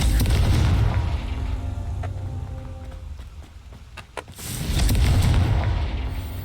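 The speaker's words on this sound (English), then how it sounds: "Confringo" The Confringo explosion spell in Hogwarts Legacy goes off as a deep, booming blast with a rumbling tail, then swells again into a second heavy roar after a short quieter spell with faint crackles.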